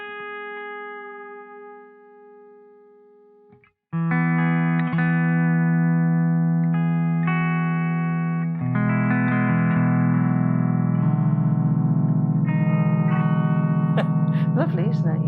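Sustained, gliding pedal steel guitar tones, a quiet held note first, then louder layered chords swelling and sliding with a bright shimmer.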